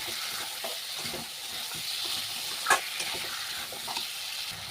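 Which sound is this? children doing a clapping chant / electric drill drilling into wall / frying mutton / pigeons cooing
frying mutton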